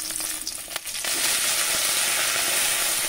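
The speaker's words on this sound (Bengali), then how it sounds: "মাছগুলো আমি একটু হালকা করে ভেজে নেব, খুব একটা কড়া কড়া করে ভাজবো না।" Fish fry lightly in oil in a pan, a dense, continuous sizzle that swells a little louder after a brief dip, with no voices.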